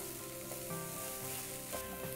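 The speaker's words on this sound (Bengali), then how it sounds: "তাহলে আমাদের চালটা প্রায় ভাজা হয়ে গেছে" Rice fries in oil with a soft, steady sizzle and occasional stirring scrapes, faint and close, with no one talking.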